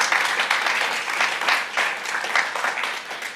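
A crowd applauding at the Greenwood Rising one-year anniversary gathering in Tulsa, sustained dense clapping from many hands, fairly near and unbroken for a few seconds.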